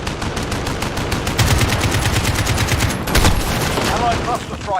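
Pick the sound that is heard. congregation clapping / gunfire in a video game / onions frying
gunfire in a video game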